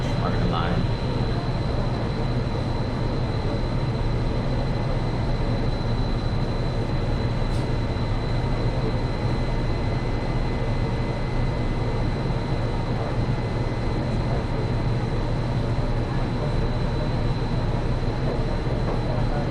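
A Hudson-Bergen Light Rail train rumbles along steadily between Tonnelle Avenue and West Side Avenue, with constant wheel and motor noise and a faint high whine throughout.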